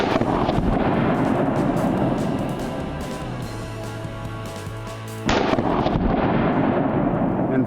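A handgun fires at an indoor shooting range during single-hand defensive training, with dense, loud, sharp reports that echo and overlap, a brief quieter gap, then another rapid burst.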